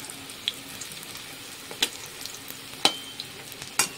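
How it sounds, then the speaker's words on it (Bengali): Fritters of gram flour, egg and onion frying in oil in a wok, a soft continuous sizzle with a few sharp pops and crackles rising from the hiss. "আমি কড়াইটা ঘুরিয়ে ঘুরিয়ে তেলগুলো আমি প্রতিটার ভেতরে যত ভালো করে ভাজা হয় ওই জন্য চারিপাশ দিয়ে ঘুরিয়ে দিলাম"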